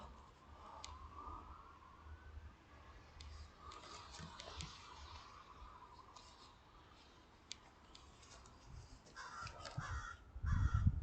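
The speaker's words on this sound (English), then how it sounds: "There's more crows. Crows, crows, crows." A flock of crows caws repeatedly outdoors, the calls scattered and moderately distant over faint background ambience, with a louder rustle or thump near the end.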